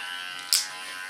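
An electric hair clipper buzzes close and steady while trimming a short platinum pixie cut. A brief brighter burst of buzzing cuts in midway, and no voices are heard.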